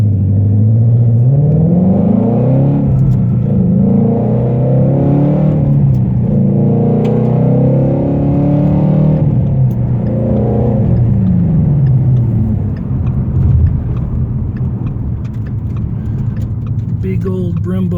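A 2016 Ford Shelby GT350 with about 6,259 miles on it drives steadily while its engine rises and falls through gears with a loud, close, continuous rumble inside the cabin.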